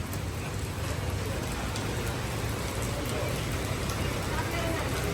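Steady rain falls outdoors in a broad, continuous wash of patter that stays loud and even throughout, with voices talking faintly underneath.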